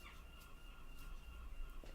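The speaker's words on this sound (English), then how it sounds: "Sorry about the birds." Fowl call faintly in the background with scattered clucking chirps over a steady low hum, distant and quiet with no talking.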